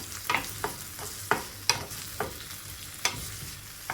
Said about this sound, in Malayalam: തക്കാളി ഒന്ന് വാട്ടിയെടുക്കുക